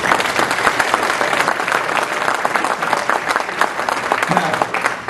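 At a Lincoln Day political dinner in Woodford County, the audience breaks into sustained, loud, even applause that fills the room with dense clapping throughout.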